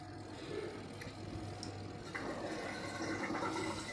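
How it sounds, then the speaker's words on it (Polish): Water is poured into a cooking pot while preparing an Asian dish at home, a steady splashing fill that briefly swells midway, close and without talk. "dolewamy wody"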